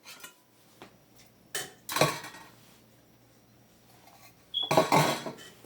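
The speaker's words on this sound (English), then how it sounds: "So let's get it a good stir." A spoon stirs homemade beef vegetable soup with rice in a pot. There are a few light taps, then two loud bursts of metal scraping and clanking, close and unaccompanied.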